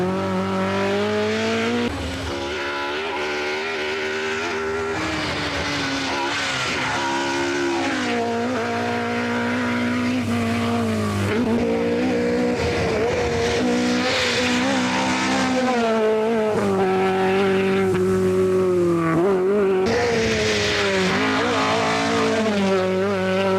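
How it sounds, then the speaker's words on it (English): Rally cars from the 1982 Manx Rally run flat out on a stage, engines howling loud and close with rising and falling pitch through gear changes, sustained without a break. "It's still flat out as the cars start the first stage on Friday"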